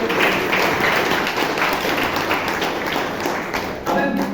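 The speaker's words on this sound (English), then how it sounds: "So round of applause for our TMOD Hana as well." A round of applause fills the room from start to finish, steady, loud and close, with dense overlapping claps.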